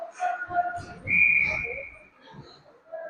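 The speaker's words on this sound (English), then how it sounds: "busting for the bench for a line change as the whistle goes, and Homulus will come out." A referee's whistle blows one sharp, sustained blast during an ice hockey game, heard over echoing arena noise and scattered voices.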